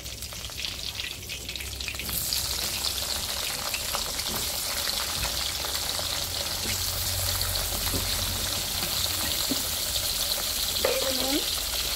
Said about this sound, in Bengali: এখন আমি এই তেলের মধ্যে বেগুনগুলো ভেজে নেব।